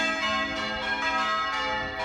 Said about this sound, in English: You can't beat a church bell.